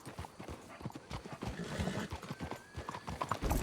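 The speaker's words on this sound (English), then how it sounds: "Let's hitch the horses up ahead." Horse hooves clip-clop at a steady trot with an occasional whinny, set against a busy outdoor background, in the video game Red Dead Redemption 2.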